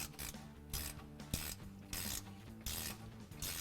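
A ratchet clicks rapidly in repeated bursts on the spring bolts of a rear suspension during steel leaf spring removal, a steady metallic ratcheting close by with brief pauses between strokes and no talk.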